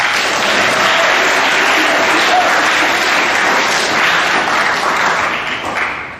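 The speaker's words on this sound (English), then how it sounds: "Yeah, you can clap for that" Loud, sustained applause from a large audience at a high school spring sports awards assembly, a dense continuous roar of clapping that eases slightly at the close.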